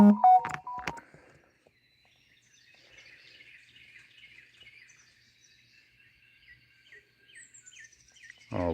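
A bird chirps outdoors beside a lake, a faint thin stream of quick high twitters continuing in the distance after a brief loud handling noise at the start, quiet open air around it.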